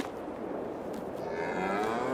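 Cattle lowing in Farming Simulator 22 on a Polish farm: a drawn-out moo or two rise over a steady farmyard hum, fairly close and continuous, with no talking.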